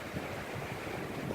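Strong wind gusts on a beach, roaring as steady broadband noise that buffets the microphone, with surf likely mixed in, continuous and loud without any voices.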